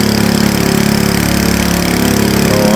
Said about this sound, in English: Apparently they're going to spin the props in here.